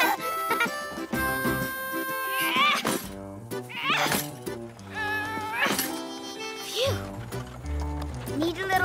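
A cartoon horse pulling a big Wild West wagon gives a few rising whinnies and some clip-clopping hooves, mixed under loud, busy music.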